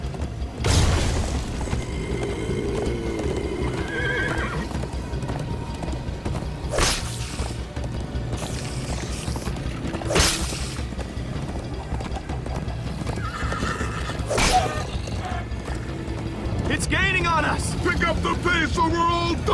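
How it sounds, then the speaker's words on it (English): Horses neigh and gallop in the Minecraft Story Mode video game, with clip-clopping hooves, whinnies and whooshing game effects layered over background music, and characters' voices talking at times. "First time on a horse here!"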